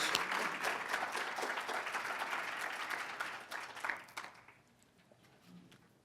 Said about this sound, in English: Let's give them a round of applause, ladies and gentlemen, as they make their way to the stage.